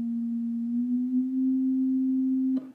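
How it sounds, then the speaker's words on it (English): A synthesized middle C holds as a pure, steady electronic tone, its pitch bending only slightly before it cuts off abruptly near the end, alone with no voices. "if I play a note like a middle C and then adjust the pitch bend, you'll hear it go up and then down below the original"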